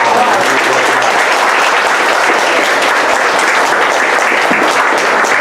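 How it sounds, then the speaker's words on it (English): A crowd at a political meet-and-greet for a Virginia Senate candidate applauds Senator Dick Black, loud dense clapping sustained for several seconds, with a voice briefly audible at the start. "let's give a big round of applause to Senator Dick Black"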